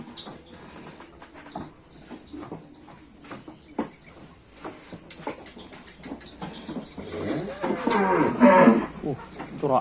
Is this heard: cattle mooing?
yes